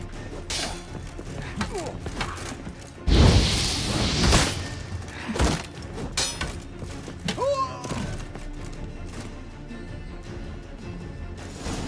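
A loud explosion bursts in The Witcher 3: Hearts of Stone, a heavy thud and crash with debris scattering after it, followed by a second lighter impact and faint background game sounds.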